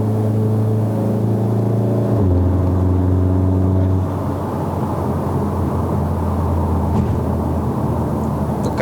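A Stage 2 MK7 VW Golf R engine and exhaust under way, with a steady droning hum that steps to a lower pitch at each of two gear changes and then settles into a rougher, rumbling cruise, heard from inside the car.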